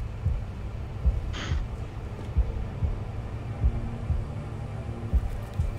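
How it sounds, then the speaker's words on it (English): A slow, steady heartbeat sound effect from the animated series Murder Drones thumps low and muffled, repeating roughly every second over a dull hum, with a brief whoosh early on. "Heartbeat sound."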